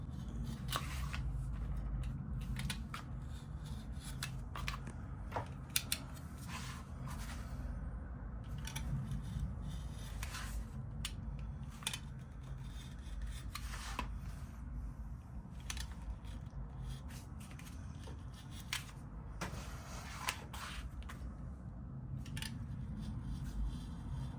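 Leather pieces cut out for a catch-all tray, with faint intermittent snips and scrapes of cutting over a steady low background hum, close and quiet with no talk.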